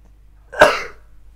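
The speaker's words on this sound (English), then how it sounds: "Coughing again." A single sharp cough from one person, close and fairly loud, bursting out after a quiet stretch and fading quickly into near silence.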